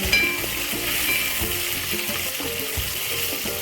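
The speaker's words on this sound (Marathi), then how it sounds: "टोमॅटो पण बघा चांगल्या तेलामध्ये आपण परतून घेतलं" Tomatoes sautéing in hot oil with browned onions for a Maharashtrian Bhogi mixed-vegetable dish, giving a steady, loud, close sizzle and crackle that runs throughout with faint stirring scrapes.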